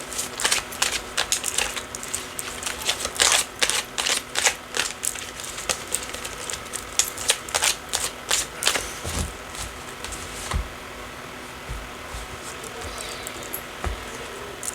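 Tarot cards are shuffled and handled in a quiet room, giving a run of crisp, close flicks and soft slaps in irregular bursts that thin out toward the end.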